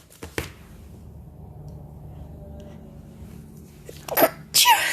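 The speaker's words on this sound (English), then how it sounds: "I knew a sneeze was coming." A single sharp sneeze near the start, then quiet room noise, followed by a few brief rustles and handling sounds of paper crafting with a stamp set at the end.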